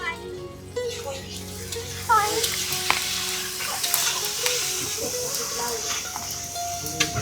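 Food sizzles and fries on a clay stove at an orphanage, with a continuous hiss and occasional stirring scrapes, while people talk softly in the background.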